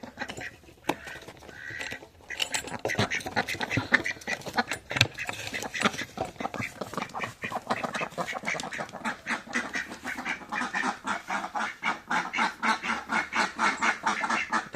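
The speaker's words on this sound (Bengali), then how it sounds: "তো আজকে হাঁসগুলো ছেড়ে দেবো" A flock of ducks quacks loudly and continuously at close range as they are let out on a foggy early morning in rural north Bengal, the calls overlapping in a dense, busy chorus.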